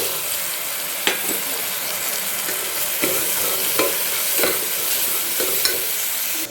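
Mushrooms stirred into a frying tomato masala with salt, a steady hiss of sizzling oil broken by several sharp scrapes of a spoon against the pan, close and fairly loud, with no voices.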